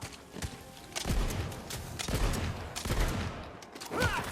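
Shotgun blasts in the video game Tiny Tina's Wonderlands sound about once a second, four in all. They are fairly quiet, set in a busy game soundscape.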